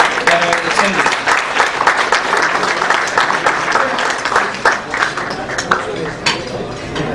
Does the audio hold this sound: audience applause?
yes